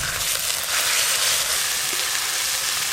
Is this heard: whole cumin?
yes